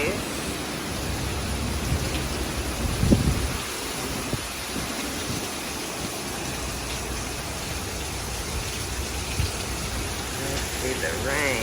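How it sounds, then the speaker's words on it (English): Rain and gusting wind from Hurricane Delta, hours before landfall, pour down as a dense, loud, continuous roar with buffeting gusts, someone speaking faintly beneath it. "The winds, rain from Hurricane Delta."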